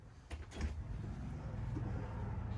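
A door slides or swings open with a brief rattling bump, followed by a low steady rumble of background noise and no talk.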